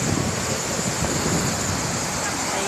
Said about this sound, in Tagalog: Ang alon, ang lalaki ng alon.